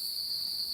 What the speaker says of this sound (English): it sounds like we had cicadas